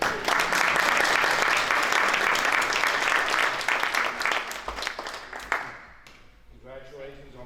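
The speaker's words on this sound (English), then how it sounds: "Get a round of applause for Mike, please" An award-ceremony audience claps for county award recipient Mike, with loud, dense applause filling the room before tapering off, and a speaking voice coming in at the end.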